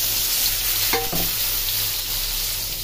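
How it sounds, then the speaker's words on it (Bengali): Onion dropped into oil left over from frying fish sizzles loudly and continuously up close, with a short clatter of stirring about a second in. "যে মাছ ভাজার তেলে আমি পেঁয়াজটা ছেড়ে দিলাম"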